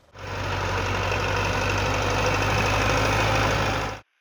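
A steady, loud tractor engine drones continuously at idle with a low rumbling hum, running alone without pause until it cuts off at the end.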